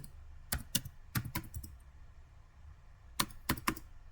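A computer keyboard is typed on in short clusters of sharp clicks, two quick bursts separated by a pause, quiet and close with no speech.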